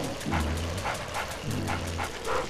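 A small yappy dog in the Luigi's Mansion video game barks in two quick bursts of yips, loud and up front over a dense, busy game soundtrack.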